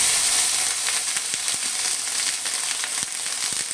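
Onion paste sizzling and frying steadily in hot oil with hog plum in a pan, a dense continuous crackle broken by a few sharper pops, close and fairly loud, with no talking.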